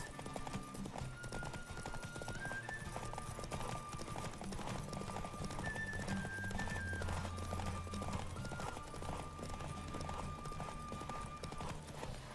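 Racing horse hooves from The Witcher 3 drum in a quick, continuous gallop, close and loud, with a whinny and game music running underneath.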